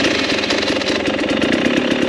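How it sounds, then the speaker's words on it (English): A motorcycle engine runs loudly nearby, a rough, fast-pulsing rumble that stays steady throughout without revving. "You gonna be all right if I start my engine up?"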